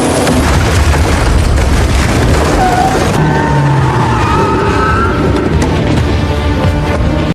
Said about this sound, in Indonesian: Toretto dan Brian menjebol tembok untuk mencuri brankas